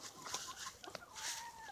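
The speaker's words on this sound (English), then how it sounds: "One of my Sunisa brood hens." A blue-red brood hen clucks in short bursts, fairly close, with soft broken calls rising and falling over background noise.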